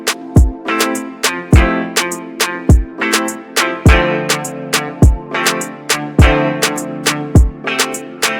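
A dancehall drum pattern of hi-hat, kicks, clap and snare: punchy, evenly spaced hits in a steady, looping groove with bright clap and snare accents over deep kick thumps, loud and heard alone.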